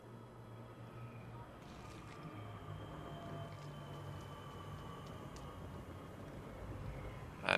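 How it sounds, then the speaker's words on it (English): A train approaching on a map in the video game Apex Legends: a steady low rumble and hum grow slightly louder over several seconds, then end in a short, sharp burst. "So you can tell the train's coming."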